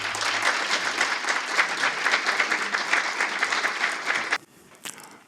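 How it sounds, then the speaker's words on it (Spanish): A lecture audience breaks into warm, dense applause to welcome the speaker. The clapping stays steady for about four seconds, then cuts off abruptly, leaving a few scattered claps. "Recibamos con un cálido aplauso a Juan Francisco Sanz."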